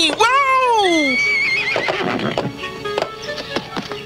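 A loud horse whinny rises and falls for about a second, followed by scattered clip-clop and rustling, with a voice speaking briefly afterward.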